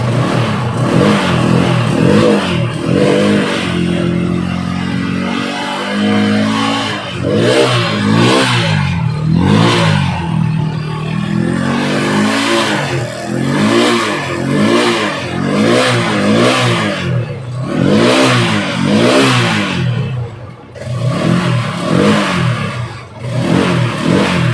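A TVS motorcycle engine runs after a wiring-harness joint repair, a close, loud, throbbing idle that repeatedly swells and dips as the revs rise and fall in uneven pulses.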